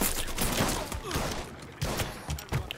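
Rapid bursts of gunfire ring out in Mafia 3, dense irregular shots clustered across a few seconds with brief gaps, loud and close.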